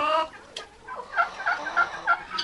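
A turkey hen's rapid, nasal clucks and short yelps close by, a quick series of calls over faint background noise.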